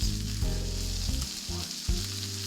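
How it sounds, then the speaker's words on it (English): Bacon, mushrooms and peas fry together in a pan for pasta carbonara, hissing in a loud, steady sizzle interrupted by a few brief stirring scrapes. "So I've got peas, bacon, and mushrooms all cooking together."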